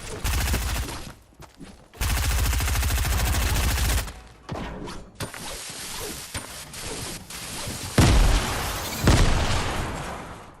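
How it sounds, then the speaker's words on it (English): Explosions and rapid gunfire from a Fortnite battle crash in as loud bursts separated by brief lulls, with heavy booms near the start and later blasts close and harsh. "I was trying to avoid getting myself caught in that explosion"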